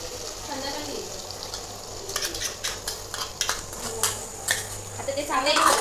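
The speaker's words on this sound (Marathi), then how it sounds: "आता ते चांगलं एकत्र मिक्स करायचे." A spoon scrapes and clinks against a pan while tomato and onion puree is stirred together for butter chicken, the taps growing busier and louder toward the end with a faint background hum.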